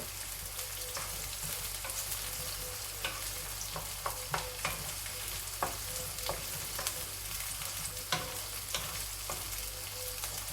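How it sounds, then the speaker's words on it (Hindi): Onions fry in a pan, a soft, continuous sizzle punctuated by frequent close scrapes and taps of a spoon stirring, under a low steady hum. "प्याज को भी मैं हल्का ब्राउन करूँगी।"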